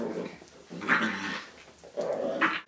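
A puppy growls and whimpers in short bursts, with a higher yipping whine near the middle and again near the end, close and moderately loud with no talk over it.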